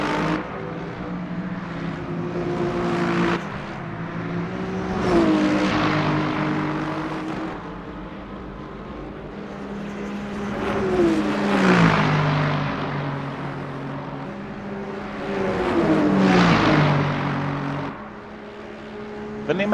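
Lexus and BMW GT3 race cars battle closely in the Le Mans Ultimate racing game at Spa, engines droning and rising and falling through gear changes in repeated swells, with commentary voices talking over the noise.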